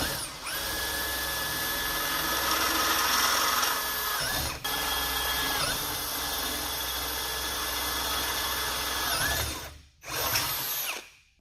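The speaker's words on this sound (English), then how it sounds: "you saw where I drilled holes into these 2 channels" A power drill bores holes into steel channels on a utility trailer, a loud, steady high-pitched whine running continuously with a brief dip midway and a short stop and restart near the end.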